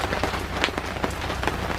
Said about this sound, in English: It's raining non-stop, so we're gonna go home probably earlier.